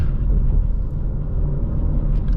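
A 2021 Ford Mustang EcoBoost with rear-wheel drive taking a corner, heard as a steady low engine and road rumble from inside the cabin, loud and even, with no talk.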